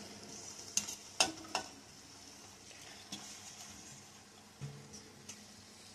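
A spoon stirring boiled broad beans into soft cooked tomatoes in a pan, giving quiet scraping and a low sizzle with a few sharp clinks, no voices.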